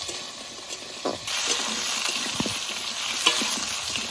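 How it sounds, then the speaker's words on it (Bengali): Young jackfruit pieces hit hot mustard oil and burst into a loud, continuous sizzle, with occasional scraping stirs and light wind noise outdoors. "তেল ভালো করে গরম করে নিয়েছি, এবার এঁচড় দিয়ে দেবো।"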